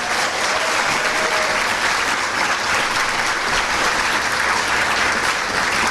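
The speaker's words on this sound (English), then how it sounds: "We didn't give a clap out for the Rappahannock tribe" A conference audience applauds the Rappahannock tribe with steady, dense clapping that holds at an even, fairly loud level for several seconds with no pause.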